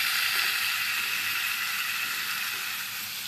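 Chicken pieces sizzle in a pan, browning on each side with a loud, constant hiss and crackle of hot oil and no pauses.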